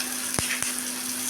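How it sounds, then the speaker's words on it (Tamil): Dried red chillies and onion fry in a pan, a soft, even sizzle broken by two light taps of a spoon. "இப்போ வரமிளகா வெங்காயம் நல்லா வதங்கிடுச்சுங்க"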